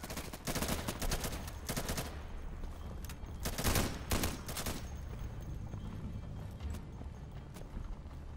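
Gunfire in the tactical shooter game Insurgency: bursts of rapid automatic shots near and loud, heaviest early and again midway, with scattered single reports between and no talk.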